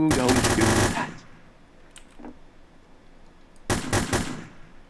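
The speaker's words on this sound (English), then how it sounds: "Why is somebody shooting at me?" Video game gunfire comes in two rapid automatic bursts, loud and close, about three seconds apart, with faint scattered impacts in the gap between them.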